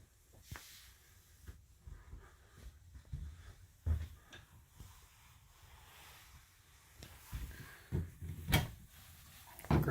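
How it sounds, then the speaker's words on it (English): Storage drawers with a slow close feature in a 2015 Forest River Sandpiper 378FB fifth-wheel RV, sliding and bumping shut in scattered soft knocks and rumbles over a quiet room. "Great storage drawers, again with the slam slow close feature."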